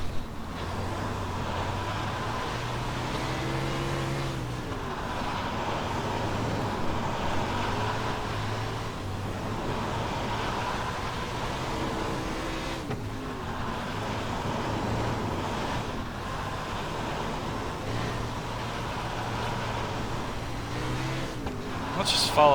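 Wingless 360 or 410 sprint car engine in the iRacing simulator, a steady droning roar that rises and falls in pitch as the car laps, continuous and loud with wind rush underneath.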